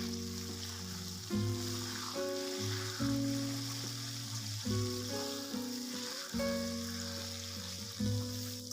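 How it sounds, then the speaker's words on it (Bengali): Tomatoes and slit green chillies sauté together in a pan for a winter new-potato curry. A soft, continuous sizzle runs throughout, fairly faint, beneath a steady tonal background. "এবার এগুলোকে একসাথে কষিয়ে নেব যতক্ষণ না টমেটোগুলো নরম হয়ে যায়"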